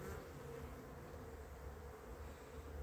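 Honeybees hum and buzz as a dense, steady drone from an opened hive under inspection, low and continuous with no voices.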